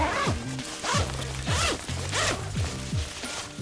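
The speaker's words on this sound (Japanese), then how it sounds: "さらにこの サイドをチャックで開くと" Zipper on the side of a Peak Design travel bag being pulled open in several quick, rasping strokes with short pauses between, close and clear with no talking.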